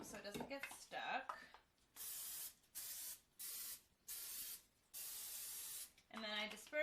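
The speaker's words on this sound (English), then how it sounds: "Make sure you spray them so it doesn't get stuck." Five short bursts of cooking spray hiss in a quick series onto a pancake pan, with someone talking briefly before and after them.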